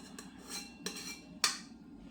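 Four sticks of butter going into a pan, heard as a few quiet clinks and knocks of metal on the cookware, the last one sharper and brighter, in a quiet kitchen.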